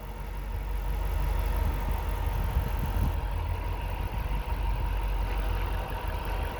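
A 2010 Dodge Challenger SRT-8 idles steadily after start-up, a deep, continuous engine rumble close by with no talking, holding an even level throughout.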